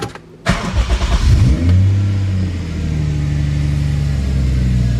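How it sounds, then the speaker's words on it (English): A turbocharged 2JZ NA-T Toyota Supra engine cranks and catches, revs up loudly, then settles into a steady, rumbling idle nearby. "I'll start the car."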